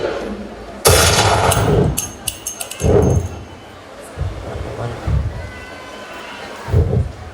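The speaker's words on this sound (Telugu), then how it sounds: "ఈ తుపాకీ తూటాలకు నేను చనిపోవచ్చు" Gunshot effects in a school annual day mono action drama on stage, several loud sharp bursts, one long and others shorter, separated by quieter stretches with voices speaking.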